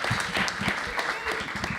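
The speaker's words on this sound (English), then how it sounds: "Give him a round of applause." Applause from a live audience at a Temple University event in Philadelphia, a short burst of moderate clapping with a voice speaking over it.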